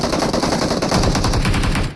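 Automatic gunfire in the mobile battle-royale game BGMI, a loud, rapid, unbroken burst of shots lasting about two seconds before cutting off.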